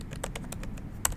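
Fast, light keystrokes on a computer keyboard tap out an irregular run of clicks, close and fairly quiet, with one sharper click near the end.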